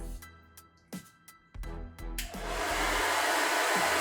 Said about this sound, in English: So I'll go ahead and get started and turn this on. Sorry in advance for the noise.